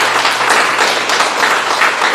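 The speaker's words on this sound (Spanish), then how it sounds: "¿Cuántos pueden dar un fuerte aplauso al Señor?" Loud, steady applause from a church congregation fills the whole stretch, a dense wash of clapping with no break and no voice over it.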